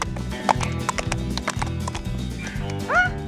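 Horse hooves clip-clop steadily on a horseback journey heading east toward the Mercantour, with a short whinny near the end and another animal call partway through.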